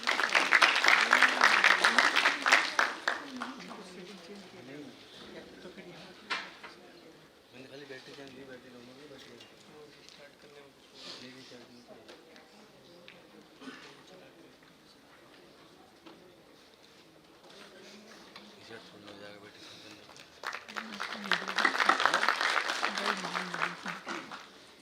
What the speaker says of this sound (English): Let us welcome them with a huge round of applause.